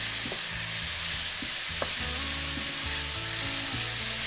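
Butter chicken tomato sauce with salt and a pinch of sugar stirred in a pot, a loud, continuous bubbling sizzle with rhythmic spoon strokes scraping through the thick sauce close by.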